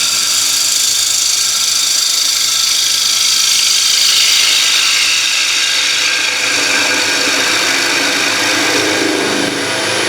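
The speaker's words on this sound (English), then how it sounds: "So now we're going to do our finishing cut." Wood lathe making a finishing cut on a bowl, a steady, loud broadband hiss of the tool shaving the spinning wood that runs unbroken for the whole stretch with no talking.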